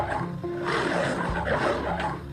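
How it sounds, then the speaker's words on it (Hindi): A cartoon lion roars in a jungle story for kids. The roar is a sustained, rumbling growl, fairly loud, over a busy background. "तभी उसे शेर की आवाज सुनाई दी।"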